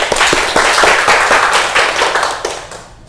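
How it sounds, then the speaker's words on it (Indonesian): A classroom group claps together in a brief burst of quick, uneven hand claps, fairly close and loud, fading out after about three seconds. "tepuk tangan"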